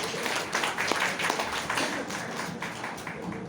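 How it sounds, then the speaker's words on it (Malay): Moderate applause from a seminar audience, steady and fairly dense throughout, heard from within the hall with no talking over it. "Boleh kita tepuk tangan tuan-tuan dan puan-puan?"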